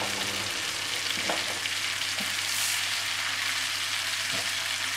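Pork tenderloin sears in a hot pan with a steady, loud, close sizzle and crackle, a faint low hum underneath and a few soft knocks, with no talking.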